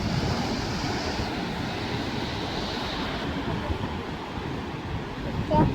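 Steady roar of sea waves washing onto the beach at Alibag, continuous and fairly loud, with wind buffeting the microphone throughout.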